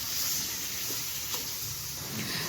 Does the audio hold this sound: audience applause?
no